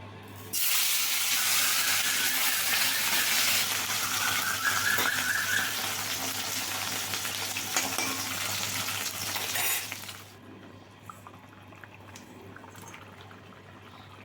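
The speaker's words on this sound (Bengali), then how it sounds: "তো মাছগুলো ভেজে নিই" Fish frying in a pan of hot oil gives a loud, dense, close sizzle that holds steady for about ten seconds, then drops to a quieter crackle with faint clinks.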